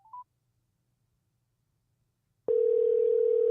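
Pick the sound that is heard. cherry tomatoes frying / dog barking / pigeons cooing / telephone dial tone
telephone dial tone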